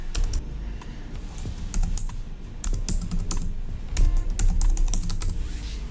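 Keys clatter on a computer keyboard as a search name is typed, a close run of quick uneven clicks and taps with brief pauses between bursts, steady throughout with no voice.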